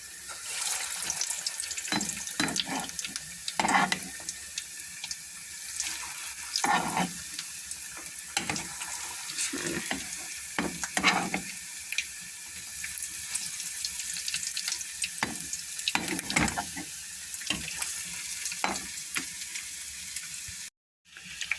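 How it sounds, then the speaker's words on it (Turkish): Steady, loud sizzling of yogurt balls frying in hot oil fills the whole stretch, with occasional bubbling pops and a few soft clinks, no talking. "yoğurtlu toplarımı kızartmaya başladım"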